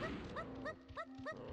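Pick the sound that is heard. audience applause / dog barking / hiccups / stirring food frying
dog barking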